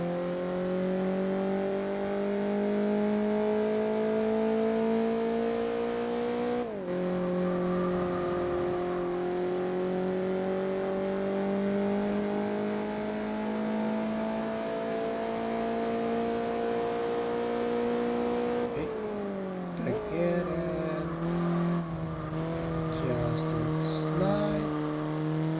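Race cars in Gran Turismo 4 hold a steady, loud engine drone through the gears, with shifts around the middle and later, tire squeal and a passing car layered in over a continuous racing roar.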